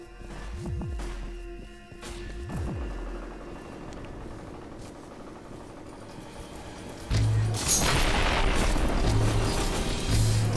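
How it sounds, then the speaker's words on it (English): Grenade launcher explosions in F.E.A.R. Perseus Mandate: two deep booms come early, then a louder, noisier stretch of blasts and debris toward the end, all under continuous game sound. "I'm coming with my grenade launcher."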